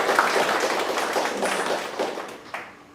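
A workshop audience at a medical institute gives a round of applause, a dense patter of many hands clapping that gradually thins and fades out over a few seconds.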